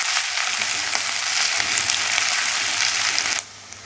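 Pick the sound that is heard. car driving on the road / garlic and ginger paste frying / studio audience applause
garlic and ginger paste frying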